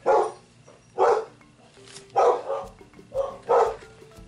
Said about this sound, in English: Oh, you hear my dogs?